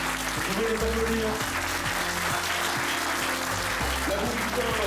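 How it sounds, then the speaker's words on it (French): A large audience claps continuously for student participants at an oyster-opening contest, with dense, steady applause throughout and voices faintly audible beneath it. "Vous pouvez les applaudir."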